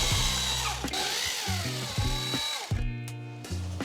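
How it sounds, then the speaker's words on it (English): A power drill bores into a ceiling to make a hole for an anchor, with an empty cavity above. Its motor whines loud and close, speeds up and slows in several short bursts, then stops briefly. "I feel confident that I can go in now with the drill bit for the anchor"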